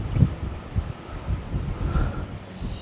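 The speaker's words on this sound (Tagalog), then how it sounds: "Bara tayo, lakas yung hangin." Strong wind roars steadily over the summit of Sierra 360 in rain and fog, a continuous low rumble with gusts buffeting the microphone and no voices.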